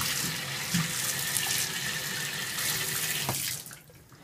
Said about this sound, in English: Get my hands washed off so I can